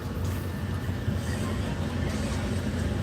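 A train on the way to Tuy Hoa starts moving off from a stop, with a steady, loud low rumble and a rattling carriage drone that holds throughout.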